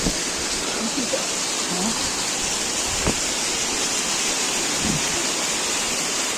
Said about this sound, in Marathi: किती सुंदर धबधबा आहे